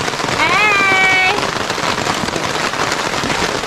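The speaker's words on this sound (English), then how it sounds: "we're having a marvelous time out in the rain" Steady rain falls outdoors at a woodland bushcraft meetup in Virginia, a dense broadband patter throughout, with a brief whistling tone near the start.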